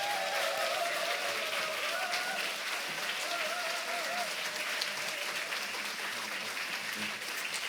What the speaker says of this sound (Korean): 일어나서 뜨거운 박수로서 한번 우리 목사님을 맞이하겠습니다.